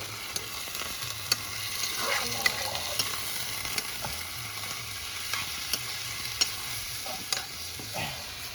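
Chicken frying and sizzling in a big pot on a high flame, a batch of about 5 kg, with a constant hiss and light irregular stirring clicks close by, no voices.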